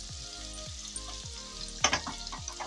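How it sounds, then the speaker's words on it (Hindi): Chopped onion, ginger and green chili frying in hot oil, a close, steady sizzle with repeated stirring scrapes at a regular rhythm. "हमारा तेल थोड़ा गर्म हो गया है तो हम इसमें सबसे पहले प्याज डालेंगे और हमने जो अदरक और हरी मिर्ची को कट किया था उसे डाल देंगे"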